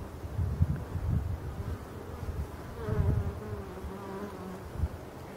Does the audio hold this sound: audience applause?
no